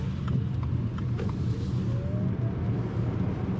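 A Subaru Solterra electric SUV turns and accelerates, a steady low road rumble with faint rising motor whine, heard from inside with no talking.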